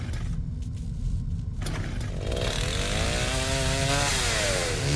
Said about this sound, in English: That's a chainsaw.